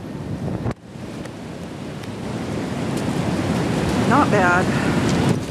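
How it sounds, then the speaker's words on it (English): Surf and wind at Oceanside Beach, Oregon, roar as a steady broad wash throughout, with a brief dip early on; a short spoken phrase comes near the end. "We are right on the banks of the ocean."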